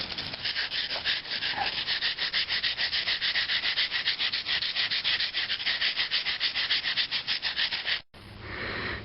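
A knife blade is ground on sandstone to sharpen its bevel, giving a steady rhythmic rasping scrape of rapid back-and-forth strokes that is loud and close, then stops abruptly near the end.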